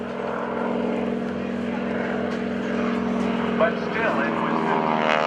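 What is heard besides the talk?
heavy aerobatic airplane flying at an airshow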